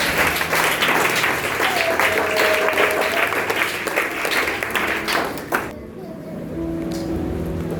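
A church congregation applauds at a sermon, with steady clapping filling the first half before fading into a quieter room with some voices.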